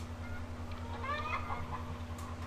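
Chickens on a broiler farm, a soft chorus of clucking and chirping at a distance over a steady low mechanical hum.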